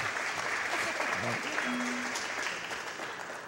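A small group claps steadily for about three seconds during a casual gaming session, with a few voices talking over the applause.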